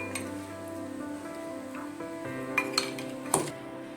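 A spoon clinks against a bowl while mixing fish marinade of spice paste and vinegar, soft scraping building to a few bright clinks near the end.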